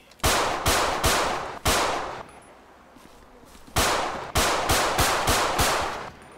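Glock 20 pistol shots in the video game GTA 5, about eight loud, sharp reports fired in two quick groups with a short quiet gap between, each crack trailing into a brief echo.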